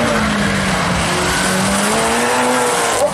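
A Golf race car slides sideways at a Sunsetcorsa stage rally event in Nyahururu, with a loud, steady engine drone, a rising note and tire squeal running continuously and close by.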